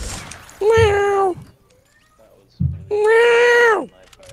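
Two drawn-out, loud, close meows rise and fall, separated by a short quiet gap. A person's voice seems to imitate the meowing back and forth with a cat.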